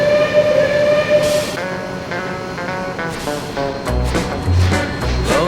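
Several coal train locomotives rumble steadily along the track, with a continuous low engine drone, rolling wagon noise and harmonic engine tones building toward the end, loud and close throughout.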